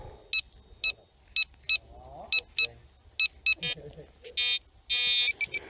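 Metal detector (XP Deus or Garrett) giving signal beeps while digging in the woods, a series of short sharp electronic tones in uneven rhythm, later longer buzzing bursts, with faint background noise and brief talk.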